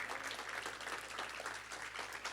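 Faint applause from a church family worship congregation, a soft, even patter of many hands clapping at a distance with no clear breaks.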